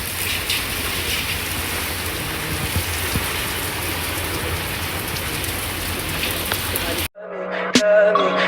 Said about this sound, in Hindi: आंधी भी बहुत तेज आ रही है, बारिश भी बहुत तेज है।